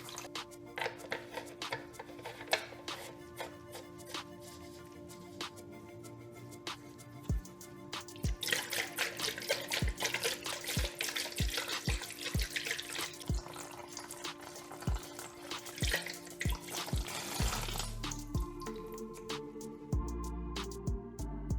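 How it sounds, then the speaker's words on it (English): Water splashes and drips while a motorcycle coolant reservoir is rinsed out, with a run of sharp close drips and taps in the middle, then a steadier pouring flow near the end, quiet overall. "I'm going to just rinse my reservoir out with water."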